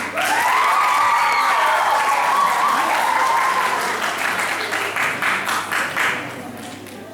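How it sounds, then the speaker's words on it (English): A warm round of applause from the audience at a Model United Nations conference award ceremony, loud and sustained clapping filling the room, with a voice speaking over it early on before the clapping thins out near the end. "Let's give a warm round of applause to Winnie and Hania"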